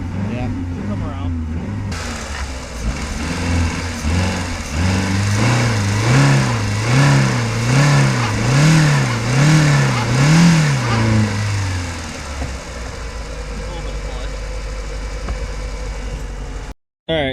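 A junk car engine runs and revs repeatedly, rising and falling in a rhythmic series of loud pulls before settling back to a rough idle, with voices around it.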